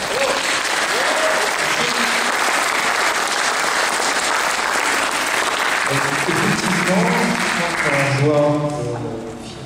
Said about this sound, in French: Et je crois que vous pouvez l'applaudir.